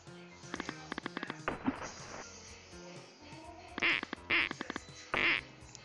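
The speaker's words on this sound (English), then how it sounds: "Oh, there's ducks." Ducks quack repeatedly in a Windows XP video game, a few loud, distinct quacks over busy game sounds and rhythmic clicking, with no voices.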